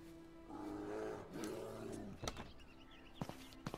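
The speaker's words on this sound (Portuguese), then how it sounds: "Esses ursos estão incomodando aqui," Bears roar in the survival driving video game Drive 4 Survival, a long rumbling growl over the first two seconds followed by a few sharper, shorter roar bursts, fairly faint and with no talk.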